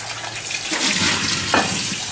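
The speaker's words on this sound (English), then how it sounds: "We're pouring it down the sink here." Citrizyme cleaning liquid poured down a sink, a continuous close splashing, gurgling flow of liquid into the drain.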